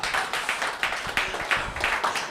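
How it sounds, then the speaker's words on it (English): Audience at a comedy open mic clapping, a small crowd's applause heard close with distinct individual claps pulsing in a loose rhythm throughout. "everyone clap for Rodney before I get..."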